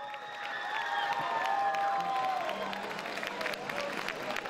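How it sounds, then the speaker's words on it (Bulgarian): Audience at a festive St. Nicholas Day concert in Burgas applauding and cheering, a swell of clapping and whoops that builds and then tapers, heard at a moderate distance alongside sustained tones that sweep and bend in pitch. "Вашите аплодисменти са"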